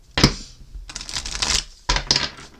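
A deck of cards is shuffled up close in quick riffling bursts, with a sharp snap at the start and crisp flurries of card flicks.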